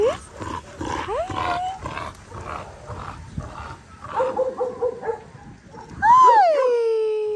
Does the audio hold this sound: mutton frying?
no